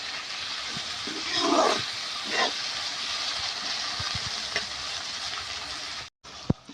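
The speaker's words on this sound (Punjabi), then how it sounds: "ਦੋ ਤੋਂ 3 ਮਿੰਟ ਆਪਾਂ ਮਟਰ ਤੇ ਆਲੂਆਂ ਨੂੰ ਚੰਗੀ ਤਰੀਕੇ ਨਾਲ ਮਸਾਲੇ ਵਿੱਚ ਭੁੰਨ ਲਿਆ" Potatoes and peas frying in masala for a homestyle methi aloo matar sabzi, a steady close sizzle and hiss with a few louder stirring swells, cut briefly near the end.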